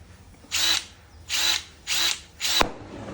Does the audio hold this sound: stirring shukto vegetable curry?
no